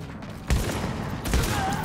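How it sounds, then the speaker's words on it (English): Two heavy shotgun blasts from a shooter video game, The Division, spaced under a second apart, loud and close with booming low ends and short decaying tails, over a steady game background. "It's time for some shotgun action."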